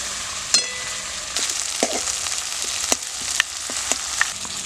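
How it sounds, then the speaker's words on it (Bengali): Spice paste of onion, tomato and chili sizzles steadily in a pan for a Bengali mustard pabda fish curry, with several sharp clicks and scrapes of stirring breaking through the continuous frying hiss. "মশলাটা একটু ভালো করে কষাতে হবে"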